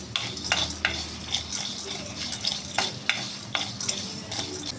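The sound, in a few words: white sesame seeds frying in a pan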